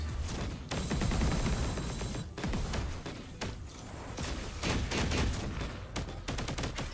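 Rapid bursts of gunfire from a character's bullets in the game Punishing: Gray Raven, dense and loud, firing almost continuously with brief gaps.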